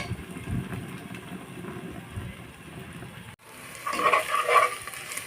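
Spice paste frying and being stirred in a pan for tehari, a soft, uneven sizzle with scraping that breaks off briefly and then returns with louder stirring and clinks.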